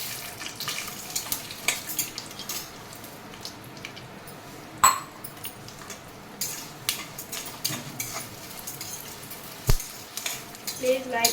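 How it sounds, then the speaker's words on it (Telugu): Toor dal roasting in a pan over fried tempering spices for an Andhra ridge gourd dal: a steady soft sizzle with scattered sharp clicks and scrapes of a spoon stirring against the pan, continuing throughout. "కొంచెం కందిపప్పు వేయించుకోవాలి"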